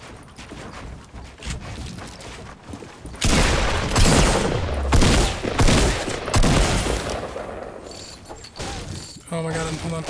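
Rapid gunfire bursts and crashing building noises from a Fortnite Battle Royale match, loud and dense in the middle stretch, with a player talking over the action.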